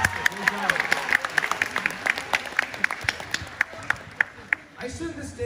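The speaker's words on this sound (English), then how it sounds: "I think that deserves another round of applause" Audience at a school talent show claps and applauds after a stand-up comedy act, steady hand-clapping with sharp individual claps standing out, some voices mixed in, tapering near the end.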